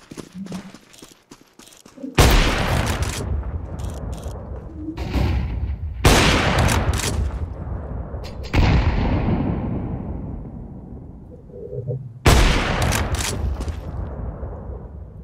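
Gunfire in a Valorant or CS2 match: four sharp, loud shots spaced a few seconds apart, each trailing into a long decaying echo, with light clicks and faint game sounds between them.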